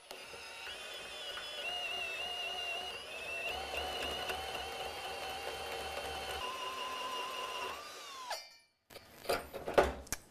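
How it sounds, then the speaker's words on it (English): Tubing notcher fitted with a hole saw cutting into 1-inch pipe with cutting oil, giving a continuous whirring, grinding drone that stops near the end before a few clanks. "That's what a tubing notcher does."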